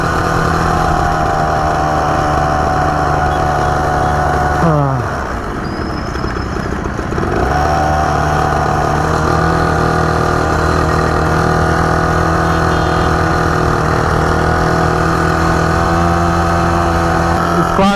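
A small mini bike engine runs loudly and close on the road with a steady buzzing drone, dipping briefly as the revs drop and then climbing back to a constant even hum.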